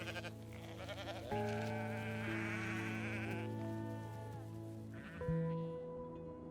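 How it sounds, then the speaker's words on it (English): A mountain sheep in the high Kyrgyz mountains gives two long, wavering bleats, close and clear against a quiet background, the second starting after a short pause. "In the toughest parts of the mountains, we can also see the mountain sheep."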